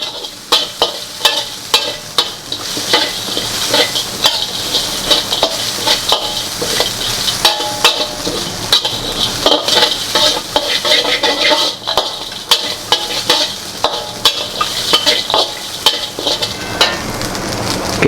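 Masala for mutton kuzhambu fried and stirred in a pan, loud continuous sizzling crackle with rapid, repeated spatula scrapes and clinks against the metal, close up, no talking.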